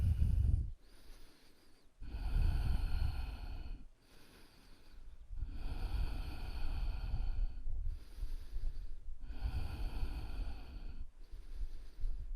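Slow, deep breaths during a yoga flow class, in long drawn cycles of inhale and exhale with brief pauses between, close and fairly loud with no talking.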